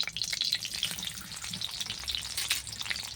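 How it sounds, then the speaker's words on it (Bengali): Chopped onion and a halved dried red chilli crackle and sizzle in hot oil, a close, busy frying hiss with occasional stirring scrapes, no voices. "পেঁয়াজ কুচিটা দিয়ে দিলাম এরপর একটু ভাজা ভাজা করে নিব"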